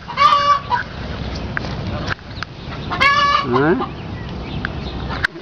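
Chickens in a community garden coop cluck and squawk in loud, close bursts with rising and falling calls, and someone speaks briefly at the start.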